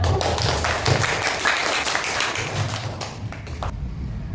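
A classroom of students claps together during a fiqh lesson, a steady dense patter of hand claps at close range over a busy room, fading toward the end.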